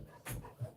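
A dog gives a brief whimper and a soft, breathy panting sound at close range, two short whining pulses in under a second.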